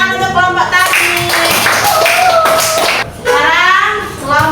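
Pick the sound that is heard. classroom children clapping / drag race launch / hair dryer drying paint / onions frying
classroom children clapping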